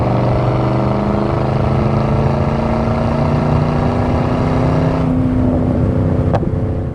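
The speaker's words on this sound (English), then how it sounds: "It's got a great exhaust note to it, and it drives like a brand new WS6." A 1998 Pontiac WS6 with a 5.7 V8 and six-speed manual rumbles steadily while driving, its deep exhaust drone loud and close with a slight shift in pitch partway through.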